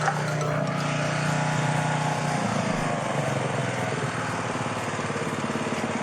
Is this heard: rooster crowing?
no